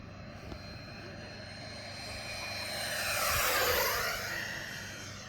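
A Freewing Me-262 RC jet flying at full throttle passes overhead, its high whining rush swelling from a distant hum to a loud peak and slightly fading, with a pitch sweep as it goes by.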